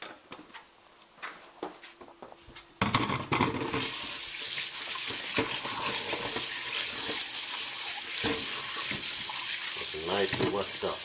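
Sliced yam washed under a running tap, a quiet start with a few knocks, then a loud, steady gush of water filling the rest.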